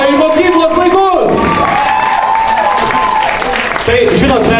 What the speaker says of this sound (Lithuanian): Klausykit, jūs aplodismentai žmonėms, kurie grįžo į mokyklos laikus.